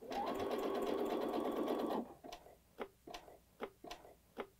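A sewing machine stitching on a button runs in a steady loud whir for about two seconds, then stops, leaving several soft separate ticks of the needle being turned by hand.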